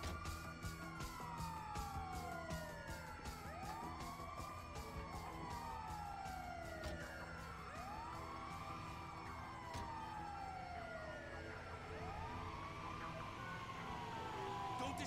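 An ambulance siren in the GTA 5 video game, a loud continuous wailing siren sweeping repeatedly up and down, with fast yelping bursts near the start, over a low engine rumble.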